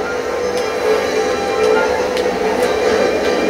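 A train ride in the Mario Kart 8 video game: a steady, loud rumbling mechanical drone with faint periodic clicks, continuous throughout without talk.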